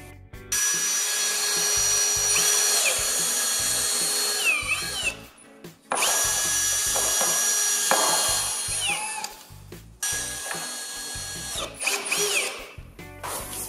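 A power drill drives screws into garden shed parts of a flat-roof Tendille model, three long whining runs close by separated by brief pauses, with scraping and knocking between.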